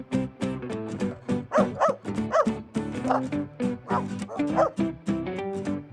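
A small dog yaps and barks in a rapid, yippy series of high, whining calls, close and loud, filling the short stretch almost without pause.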